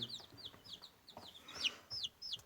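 Newly hatched chicks beside an incubator give repeated high, thin peeps in quick bursts, fairly close, with a faint background hum and no voices.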